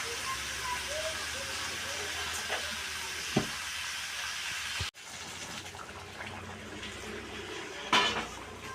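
Hot water poured into a pan of cooking chicken curry, a sizzling hiss with a few clinks of the pot, then a sharp cut into a louder, churning bubbling roar with a brief splash near the end.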